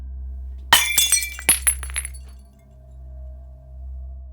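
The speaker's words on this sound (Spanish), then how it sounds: "escuché la ventana de mi sala romperse cuando algo saltó hacia la noche" Living room window glass shatters close by in one sharp crash, followed by a quick scatter of tinkling shards over about a second before a low hum settles back.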